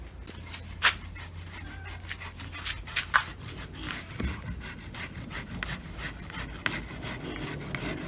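Hand scraping or grating of material into fine shreds for pig feed, with rapid, continuous rasping strokes close by.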